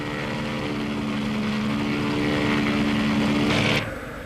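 Propeller aircraft engines run up during mandatory pre-takeoff checks of engines, instruments and systems before the first flight of the day, a steady loud drone with a hiss swelling near the end before dropping away.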